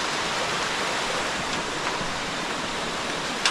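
A waterfall at a secluded beach in Thailand, a steady broadband rush of falling water heard from a short distance, constant and fairly soft, with no talking.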